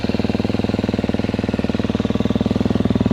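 A KTM four-stroke dirt bike sits idling just after an electric start, its engine thumping in a fast, even pulse that stays loud and close throughout with no voices.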